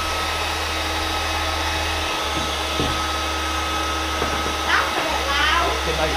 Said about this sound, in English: Just simply use a hair dryer.